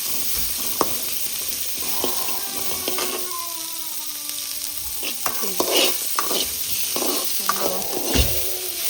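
Onions fry in a pan while being stirred: a continuous sizzle with scraping and stirring clatters at irregular intervals, close and fairly loud, with faint tonal sounds in the background.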